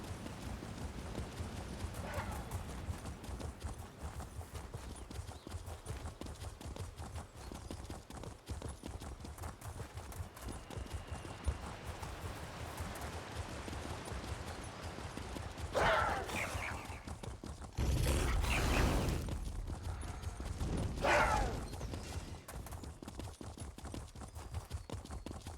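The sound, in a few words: horse hooves clip-clopping while riding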